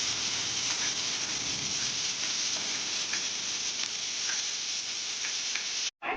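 Chopped onion sizzles steadily in hot oil seasoned with whole cumin seeds and asafoetida, a constant even hiss that cuts out briefly just before the end.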